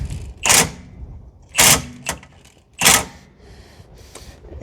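Wrench tightening a rear shock bolt on a 2014 Chevrolet Sonic 1.8, three sharp metallic ratchet clicks spaced about a second apart, close and loud, with quiet gaps between.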